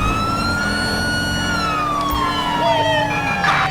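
A police car siren in GTA 5 wails, sweeping slowly downward in pitch, loud and continuous, with a low engine rumble underneath.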